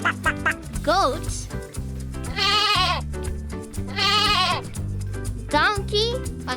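A goat bleats twice in loud, quavering calls separated by a short pause, over a steady musical backing with brief voice-like flourishes around them.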